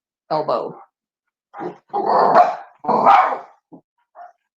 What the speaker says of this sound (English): Hey, no more barking.